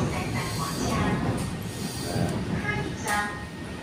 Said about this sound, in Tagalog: sakay ulit kami ng tren